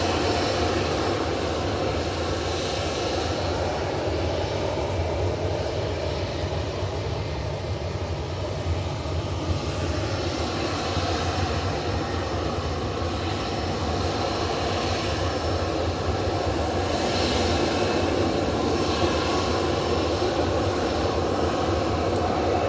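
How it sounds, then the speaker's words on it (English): Ryanair jets and an Aer Lingus ATR turboprop arrive at Manchester Airport, a sustained engine rumble and broadband roar that stays fairly constant, swelling slightly at times, with no talk. "So 2 Ryanairs in next and an Aer Lingus ATR."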